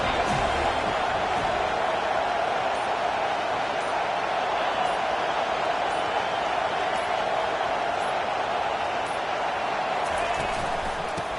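A large football stadium crowd at a college game between FSU and Texas roars in a steady, dense wash of noise throughout, loud and continuous, with a broadcast commentator's voice heard over it.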